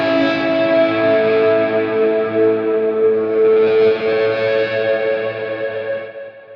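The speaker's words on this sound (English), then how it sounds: "we also have a guitar bend sound," A synth guitar bend with an edgy, distorted tone holds a dense sustained chord. The pitch sags and rises again in a slow bend, steady and loud, before fading at the end. No talking.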